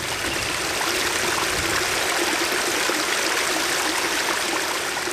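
Creek water rushes steadily past a concrete crossing on the way to a rural homestead in Western Australia, a loud, continuous broadband flow with no breaks and no voices.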